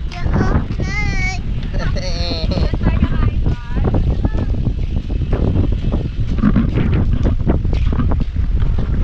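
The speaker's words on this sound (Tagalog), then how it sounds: "Sarap ng hangin sa Boracay." Steady wind on Boracay buffets the microphone throughout during the rainy season, a constant rushing roar under continuous talking voices.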